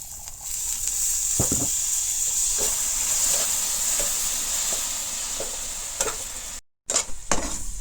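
Jaggery melting with a splash of water in a pan gives a steady, close sizzle and hiss with occasional scraping stirs, cutting out briefly near the end before returning with a few louder clatters; no voices.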